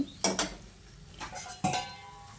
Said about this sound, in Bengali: এবার সব কিছুকে একসঙ্গে ভালো করে মিশিয়ে নিচ্ছি